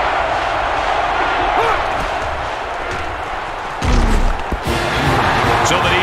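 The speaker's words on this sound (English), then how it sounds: "this crowd is alive" A stadium crowd in the NCAA Football 13 video game roars steadily during an Alabama Crimson Tide vs. Auburn Tigers Iron Bowl matchup, a dense, loud wash of cheering with a heavier thump and swell near the middle.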